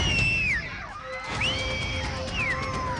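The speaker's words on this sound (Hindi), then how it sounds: "इन तस्वीरों को देखकर लोग चिल्लाने लगते हैं" A crowd shouts and cries out as a flash flood from a cloudburst surges down a muddy hillside stream in Gundana, Doda district, Jammu and Kashmir, with raised voices rising and falling over a steady roar of rushing water.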